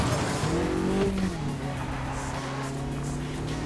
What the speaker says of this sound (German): Natürlich driften die hier rum.